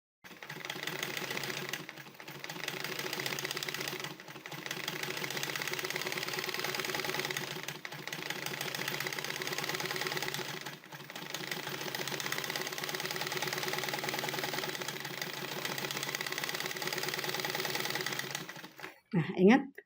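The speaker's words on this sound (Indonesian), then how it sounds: "jarak jahitan tergantung dari teman-teman menggerakkan quilt ya" A domestic sewing machine with a quilting foot stitches through a quilt in long, steady runs of rapid needle clatter, broken by a few brief pauses, while someone talks over it.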